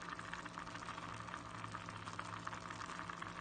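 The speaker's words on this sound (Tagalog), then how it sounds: "Kumukulo-kulo na." Potatoes and carrots simmer in a pot of water, giving a faint, steady bubbling and hiss that continues without a break and without any voices.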